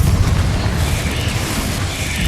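A Confringo blasting spell from the Hogwarts Legacy video game detonates in a loud, continuous booming roar of heavy low rumble and broad crackling hiss, sustained and close for the whole stretch.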